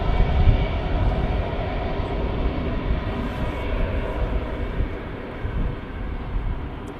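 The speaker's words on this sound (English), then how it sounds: "Off goes the EasyJet. Yep. Using runway 23 right." An EasyJet airliner departs runway 23 right at Manchester Airport, its jet engines giving a loud, steady broadband roar that holds throughout without any talk.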